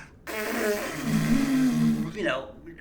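A voice imitates a giant dinosaur's fart as a long, blaring, horn-like buzz lasting about two seconds, loud and close.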